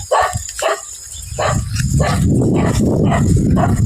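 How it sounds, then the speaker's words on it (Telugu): A dog barks several times in quick, sharp bursts close by near a village farm field, followed by a steady rumbling background noise. "ఇక్కడ కుక్క ఒకటి మరుగుతూ ఉంది"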